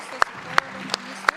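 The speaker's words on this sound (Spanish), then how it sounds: "Un fuerte aplauso" At a national panel session of a Peruvian sustainability summit, a handful of sharp, separate hand claps ring out near and crisp at uneven intervals over a quiet room, with faint talk underneath.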